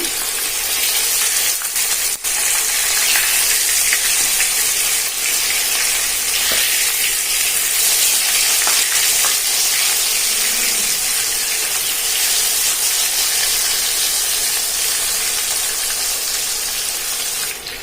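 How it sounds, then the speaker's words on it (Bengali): Koi fish shallow-frying in a pan of hot oil gives a loud, steady sizzle and spatter that runs unbroken throughout, with no talking. "মাছগুলো আমি হালকা করে একটু ভেজে নিব।"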